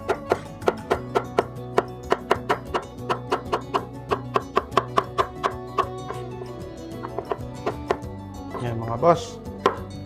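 Bitter gourd (ampalaya) is sliced with a knife on a board in quick, regular chops, close and crisp, about three or four per second, with someone speaking briefly over them.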